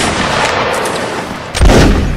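Musket volleys in Mount & Blade: Napoleonic Wars, a dense crackle of distant massed fire rolling continuously, then a louder, closer burst of shots near the end, with no talk.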